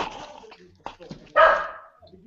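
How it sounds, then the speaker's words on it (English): A pet dog barks and yaps in the background of a home while people talk over it, with one louder burst of barking standing out near the end. "My dog's going nuts in the background."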